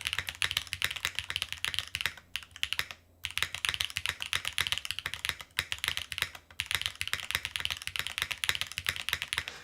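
Rapid typing on an Adamas mechanical keyboard fitted with HMX switches: dense, close keystroke clatter running nearly continuously, with short pauses around three and six and a half seconds, no talking.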